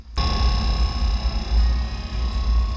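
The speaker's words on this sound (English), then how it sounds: "You may actually be able to hear the furnace going behind me." A steady low mechanical hum and rumble of a camper's furnace running in -10 degree cold, with a constant high whine above it, continuous and fairly close.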